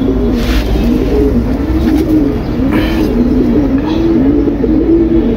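Close, loud pigeons coo in a repeated rolling, throaty rhythm, the soft calls rising and falling continuously with a faint background hum and no speech.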